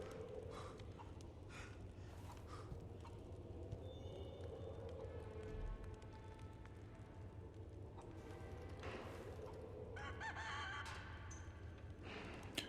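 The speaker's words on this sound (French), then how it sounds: "Les poules, c'est les pires plagas du jeu." Chickens cluck and squawk intermittently in Resident Evil 4 (2023) over a steady background hum, with a few sharp electronic effects in between.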